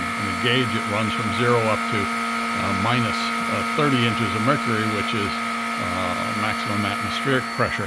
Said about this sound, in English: The vacuum system is turned on at the vacuum pump,